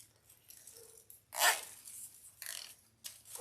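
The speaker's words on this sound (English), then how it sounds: "we're going to zip tie down here at the bottom" A plastic zip tie is pulled tight while fastening a patriotic decorative tree, producing a short, sharp ratcheting zip near the microphone, with softer rustling and scraping of handling before and after.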